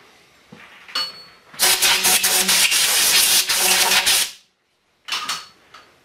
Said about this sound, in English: We've already drilled it, but we're going to go ahead and bore it now.